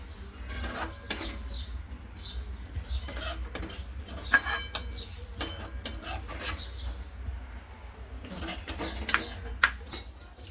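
Cooked dill and spinach dry sabzi with moong dal, scraped and spooned from a pan into a bowl: repeated light metallic clinks and scrapes of a spoon against the pan, close and steady throughout, with no talking.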